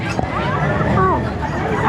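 Dogs at a busy pet market yip and bark in short bursts amid steady crowd chatter and nearby speech.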